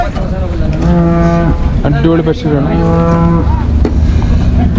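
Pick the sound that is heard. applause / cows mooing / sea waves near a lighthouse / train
cows mooing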